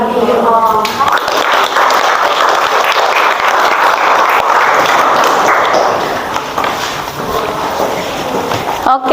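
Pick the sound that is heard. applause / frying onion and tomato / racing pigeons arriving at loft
applause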